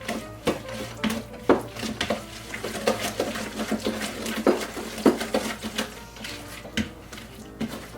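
Jam is stirred into gluten-free scone batter in a bowl, a close run of irregular knocks, clinks and wet scraping of a utensil against the bowl, with no talking.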